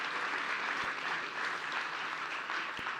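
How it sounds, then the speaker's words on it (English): A town hall audience gives a standing ovation, with sustained, even clapping from many hands filling the room at moderate volume for about three seconds. "A round of applause. There we go. Standing ovation."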